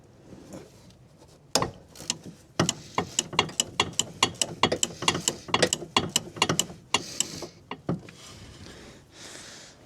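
Ratchet wrench clicking rapidly on a 14 mm bolt of a 2016 Mazda 3 2.0 front stabilizer link, bursts of sharp close pawl clicks in quick rhythmic strokes with brief pauses between them.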